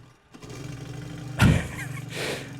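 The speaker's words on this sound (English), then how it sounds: "you got to pull this little ripcord like a lawnmower. And it sounds like a lawnmower too" A Horten Ho 229 jet in a flight simulator is started by a ripcord-pulled starter: a short quiet rattle, then a sudden loud lawnmower-like cough and burst, settling into an uneven sputtering putter before a second swell.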